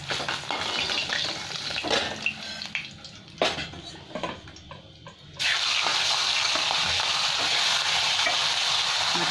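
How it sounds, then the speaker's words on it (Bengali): Pieces of rohu fish fry in hot oil in a pan, with scraping and clinking of a utensil at first, then a loud, steady, close hiss of sizzling that continues to the end. "আরো কটা মাছ আছে, আমি ভেজে নেব।"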